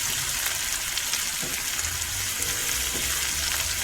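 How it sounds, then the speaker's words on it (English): Scotch bonnet pepper and thyme leaves sizzle in hot olive oil, a continuous close frying hiss with a few soft stirring knocks. "So I'm sauteing this in olive oil"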